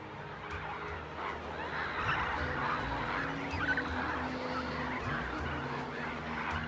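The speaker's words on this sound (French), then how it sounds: "flamants roses et cigognes font escale dans cette zone humide, au cœur du désert" A flock of migratory birds, flamingos and storks, gathers at a salt lake wetland in the Algerian desert, honking and gabbling continuously in a dense overlapping chorus over a steady rushing background.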